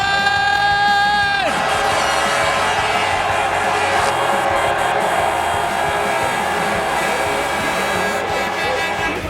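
A large outdoor crowd at the RedBud motocross race roars and cheers continuously, loud and dense, after a brief sustained tonal whine at the very start.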